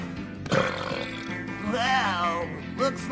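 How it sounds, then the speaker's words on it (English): A loud, drawn-out cartoon belch in a belching contest, gurgling and voice-like with its pitch swelling up and down, followed by a shorter burp. "Belching contest!"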